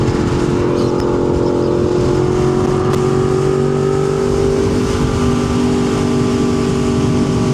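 Steady loud engine drone with rising harmonic tones from a 2025 BMW S1000RR motorcycle being ridden on the road, continuous with some wind noise and no talk.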